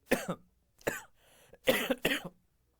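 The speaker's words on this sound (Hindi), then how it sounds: "थोड़ी सी खांसी हो जाती है मेरे को" Four sharp, close coughs in quick succession, each a short harsh burst, with brief silences between.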